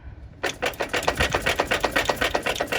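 A Ford Fiesta Mk6 is rocked by hand, and its worn-out engine mount with a missing bushing knocks and rattles in a fast, regular series of close clunks that starts abruptly and continues steadily.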